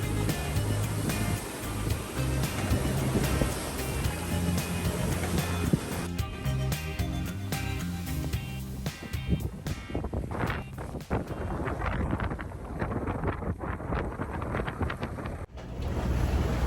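A sailboat beats upwind on a 500 nm passage from Curacao against strong wind and waves, with a loud, continuous roar of wind and rushing water that gusts and surges throughout. No one speaks.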